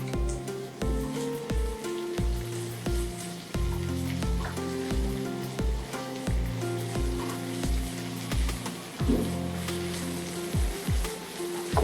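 Garlic paste sizzles steadily in a hot pan for a dhaba-style tomato fry, a continuous close frying hiss with soft stirring clinks and no talking.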